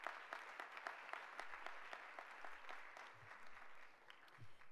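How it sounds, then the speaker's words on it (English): A conference audience at the United Nations applauds in a steady, continuous patter of many hands, heard from a distance at low volume. "They deserve a round of applause"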